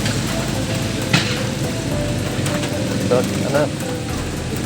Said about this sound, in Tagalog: ang lamig na pero lumakas pa yung buhos ng ulan